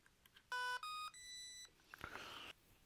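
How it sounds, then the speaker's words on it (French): A small battery tester gives three short electronic beeps in quick succession, signalling a fully charged battery, followed by faint handling noise in a quiet room. "3 sons veut dire qu'on est au max de la pile."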